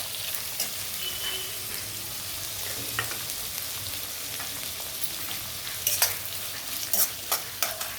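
Onions and green chillies fry in a pan for a puri curry with a steady, close sizzle, while a spatula scrapes and stirs in scattered sharp strokes that grow busier near the end.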